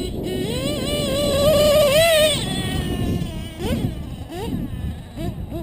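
A modded 28.8 Rex nitro engine in a small 8X world champ RC buggy screams through a long rising rev, then drops into sharp, choppy throttle blips, loud and close.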